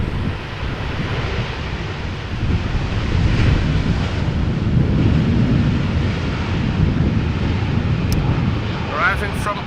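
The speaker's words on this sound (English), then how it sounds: "a Dreamliner arriving over here" A KLM Boeing 787-10 Dreamliner arriving from Toronto at Amsterdam Schiphol in crosswind, its engine roar a steady broad rumble with gusty wind buffeting the microphone throughout.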